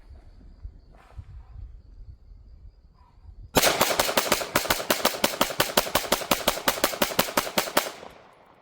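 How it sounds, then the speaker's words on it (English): Rapid gunfire aimed at DFNDR Level III+ body armor, a long string of loud, evenly spaced shots after a few quiet seconds of faint outdoor background, ending abruptly. "I'll shoot it until it falls, maybe."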